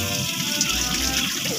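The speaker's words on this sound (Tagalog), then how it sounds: "Bawasan lang sa gripo." Water running from a faucet while an air conditioner is being cleaned, a steady broadband splashing hiss that stays even and close throughout, with no talking.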